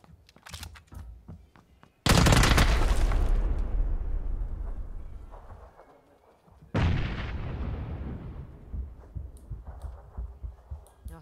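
Two grenades blast in PUBG, each a sudden loud boom with a long decaying rumble, the second a few seconds after the first, with faint gunfire and game noise in between.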